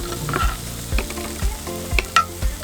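Gnocchi fry in a pan of oil at a winter lakeside fishing camp, a busy sizzle broken by about five bursts of stirring and scraping at a regular rhythm, close by with no voices.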